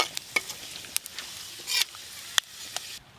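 Whole spices, dried red chillies and bay leaf frying in hot mustard oil for a Bengali banana-flower and prawn curry, giving a soft steady sizzle with a few sharp stirring scrapes and crackles close by, no talk.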